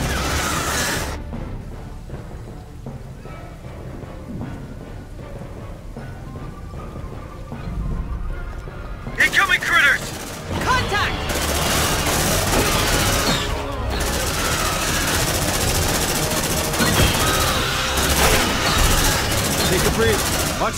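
Squad gunfire pours onto a target in Aliens: Dark Descent: dense, sustained shooting fills the air after a quieter opening, with loud sharp bursts over a constant roar.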